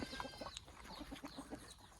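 Egg-laying hens cluck in a rhythmic series of soft, close calls over a noisy farmyard background, with one brief higher squawk early on.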